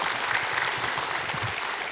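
Audience applause at the close of a televised lecture on character education, a steady dense wash of many hands clapping together, sustained and even throughout with no voices over it.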